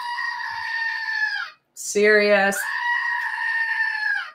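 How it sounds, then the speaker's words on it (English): Toy screaming goat and squeaky chicken toy go off in turn: a long harmonic bleating wail, then a short burst of stacked squawking honks, then another sustained wail. A voice speaks briefly between them. "We've got our screaming goat here."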